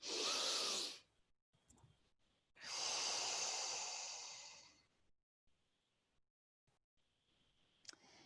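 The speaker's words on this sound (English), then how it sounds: "And breathe that in." Two long, deep breaths during a full moon meditation ritual. Each is a loud, airy inhale lasting one to two seconds, separated by quiet pauses with faint small clicks.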